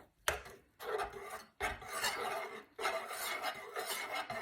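A spoon scrapes and stirs a thick cornstarch mixture in a pan for a homemade face mask, three rasping bursts of rubbing separated by short pauses, close and clear.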